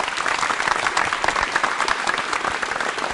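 Lively applause from a school audience for a quiz contestant, dense rapid clapping from a crowd, steady throughout with a few sharper individual claps near the front.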